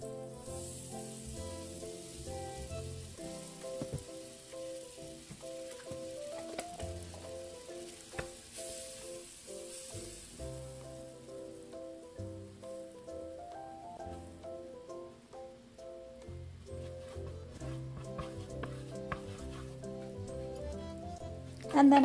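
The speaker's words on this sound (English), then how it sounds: "First, I melt 2 tablespoons of margarine in a hot pan." Two tablespoons of margarine melt in a hot pan before onions are sauteed for corned beef hash, giving a steady, dense crackling sizzle that runs throughout at moderate level, under faint background music.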